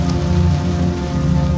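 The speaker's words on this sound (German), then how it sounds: "Der starke Regen kommt uns gar nicht so ungelegen" Heavy rain pours onto a sailboat deck during a Mediterranean passage, a loud dense continuous patter close by with no voices.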